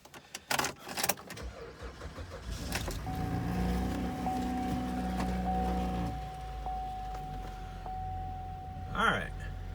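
The starter cranks on a $450 Copart auction car and the engine catches, settling into a steady idle with a faint electronic chime tone running over it; a brief clunk sounds near the end.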